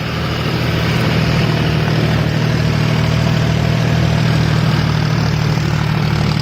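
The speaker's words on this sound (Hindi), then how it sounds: "ये है 50-50D ट्रैक्टर जॉन डियर।" A John Deere 5050D diesel tractor engine running at 1500 RPM while powering a thresher machine, a loud, steady low throbbing drone with constant mechanical hum, close and uninterrupted.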